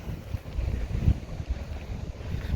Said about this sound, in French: Il y a les vagues, le vent, la bonne odeur de mer.